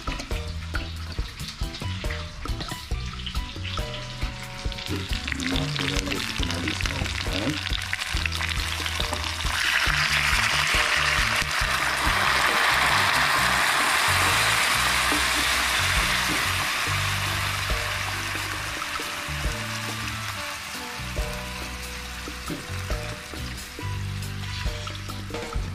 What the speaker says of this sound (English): Just I get some water in it.